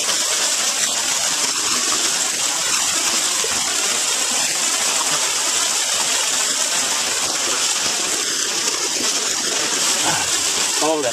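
Water gushes steadily from a natural spring faucet, a continuous broadband rush that stays loud and close for the whole stretch with no break in the flow.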